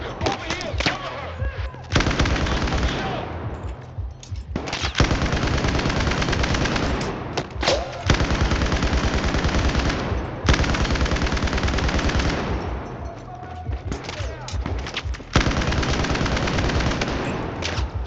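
Rapid SMG gunfire in Battlefield 4, loud sustained automatic bursts repeating across the span with short gaps between volleys.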